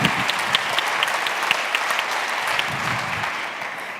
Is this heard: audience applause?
yes